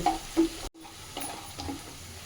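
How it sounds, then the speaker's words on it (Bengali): Onions fry in oil for a chicken kosha, making a soft, low sizzle with a brief cutoff and light stirring scrapes, fairly quiet and without speech. "আমার পেঁয়াজটা ভাজা হয়ে গেছে"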